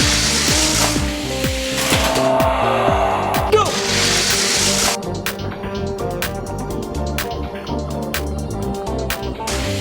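Hot Wheels Lamborghini Huracan toy cars racing down a plastic track, a busy rattling, clattering rumble with rapid clicking ticks later on, fairly loud and close, no voices.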